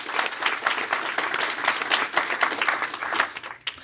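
A forum audience in Wisconsin applauds civil rights campaigners, brisk close clapping from many hands, fairly loud and continuous before tapering off at the very end.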